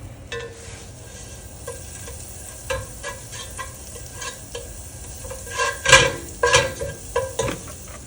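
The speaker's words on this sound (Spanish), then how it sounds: "Ahora le voy a echar otra poquita de mantequilla para dorar la carne" Beef browning in butter in a frying pan for Chinese-style fried rice crackles in a close, continuous sizzle, with scraping and clinks from a utensil stirring that grow busier and louder toward the end.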